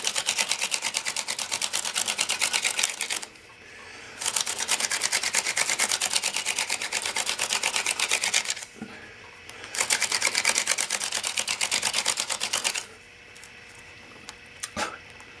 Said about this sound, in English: this is the first one that I've actually drilled completely through the enamel